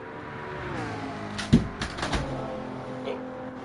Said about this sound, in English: Sorry, folks, just dropped my keyboard.